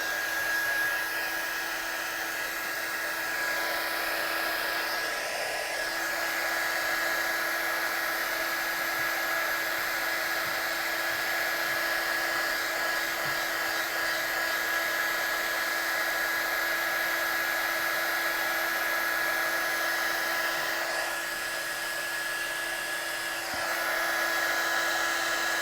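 A hair dryer blows continuously at close range over a watercolour card, a steady high whine with slight shifts in pitch as it moves, with no talking.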